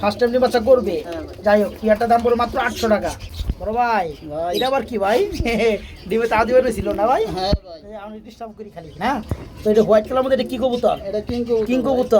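Racing pigeons coo in repeated throaty bursts at a busy pigeon market, the bird calls mixing with close, steady talk from sellers and buyers.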